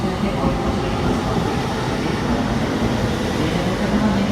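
A steady rumble of a Keio Liner train rolling along the rails into Keio-Nagayama Station, continuous and fairly loud, with a faint low whine rising near the end.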